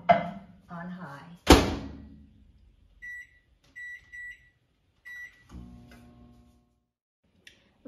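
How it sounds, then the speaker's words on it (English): Microwave oven run on high: a door thunk, several short electronic beeps from the keypad, then the low hum of the oven starting, with brief talk at the start. "And then we're going to microwave this."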